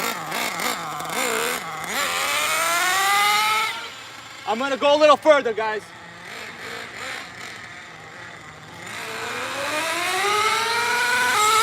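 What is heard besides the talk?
nitro RC truck engine revving, two-speed shifting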